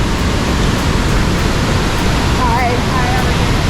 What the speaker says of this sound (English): The very top of the waterfall.